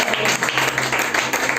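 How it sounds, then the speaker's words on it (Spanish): Congregation at an evening church service gives loud applause, a dense flurry of clapping with slightly pulsing intensity throughout, no voices standing out. "Denle un aplauso fuerte al que vive de Jesucristo."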